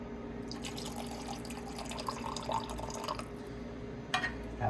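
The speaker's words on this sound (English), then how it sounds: "2 ounces of pineapple juice." Pineapple juice pours steadily into a cocktail shaker for a rum, vodka and blue curacao drink, a continuous close liquid trickle with a few brighter splashes near the end, no talking.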